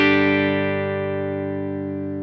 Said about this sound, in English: So we've got the hall reverb.